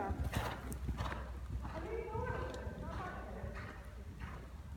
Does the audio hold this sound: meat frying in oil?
no